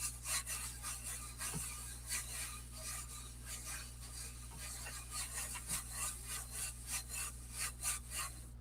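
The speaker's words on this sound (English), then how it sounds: "Burnishing it on." Rubbing and scraping as a stencil is burnished onto a craft surface, a steady, close, fairly quiet series of short strokes repeating throughout with no talking.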